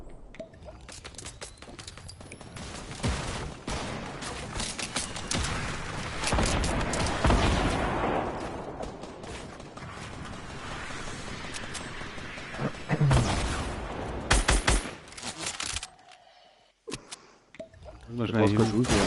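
Rapid bursts of Fortnite gunfire, loud and dense, with a few pauses and a person talking over the shooting.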